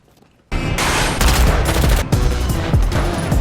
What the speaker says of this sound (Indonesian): Tempat mereka berlindung di berondong peluru tentara Union.